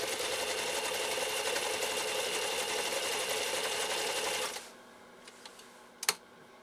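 A Necchi 523 sewing machine runs steadily, stitching white thread through green compressed felt, with a loud, even whir for about four and a half seconds before stopping, followed by a few faint clicks and one sharp knock.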